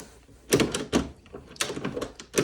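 A house's front door being tried and found locked: a few soft, separate knocks and rattles of the handle and latch, fairly close and quiet, with brief pauses between them and no talking.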